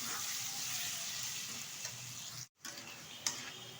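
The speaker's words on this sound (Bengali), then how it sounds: "ভালোভাবে একটু নেড়ে করে নেবো আলুটা তেলের সাথে বেশ কিছুক্ষণ সময় ধরে।" Potatoes fry in hot oil in a pan while they are stirred for a Chinese cabbage recipe. A steady, close sizzle runs throughout with occasional utensil ticks and one brief dropout, and no one speaks.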